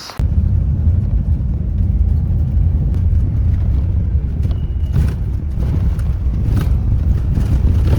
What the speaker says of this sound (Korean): 버스가 옵니다.